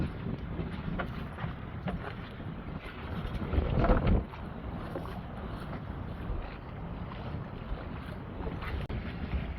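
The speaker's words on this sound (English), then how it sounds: "We're going hard into the wind, and I still have enough speed to, I think, turn around if I needed to do a tack." Wind buffeting a sailboat beating hard upwind, a constant rushing roar with microphone rumble and a brief louder gust, no voices.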